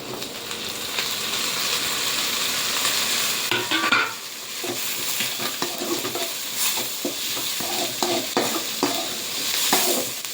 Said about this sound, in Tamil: தக்காளி போட்டு நல்லா அது மசிற வரைக்கும் நல்லா கிளறி கொடுங்க